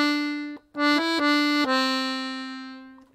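An accordion plays a short ear-training exercise of clear sustained reed notes, several held tones in quick succession, before a final note rings out and fades, with no talking.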